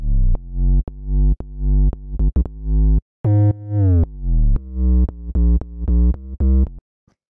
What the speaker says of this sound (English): So then the next layer we have here is the bass line, which sounds like this.